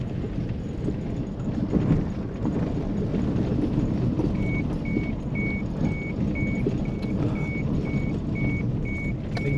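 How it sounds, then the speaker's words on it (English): A car's seatbelt warning chimes in a steady, evenly spaced string of high beeps over loud, constant engine and road rumble. "Ignore the beeping, that's just my seatbelt."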